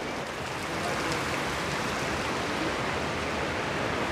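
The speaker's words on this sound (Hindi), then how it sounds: "ये देखिए ऊपर से पानी रिस रहा है" Water seeps and trickles down from the rock above at Pandav Falls in Panna, Madhya Pradesh, forming a steady, dense hiss of falling water that continues unbroken and fills the whole clip.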